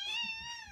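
A cat gives a single drawn-out meow in a bedroom, clear and close, with no talking over it.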